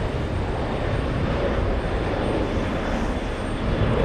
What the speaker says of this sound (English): As we watch Aer Lingus lift off.